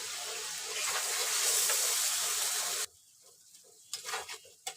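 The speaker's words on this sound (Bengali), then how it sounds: "আদা বাটা, রসুন বাটা, জিরা বাটা একসাথেই দিয়ে দিলাম।" Ginger, garlic and cumin pastes hit hot oil for a pangas fish curry, setting off a loud, steady, hissing sizzle for about three seconds that cuts off abruptly, followed by a few faint utensil clinks.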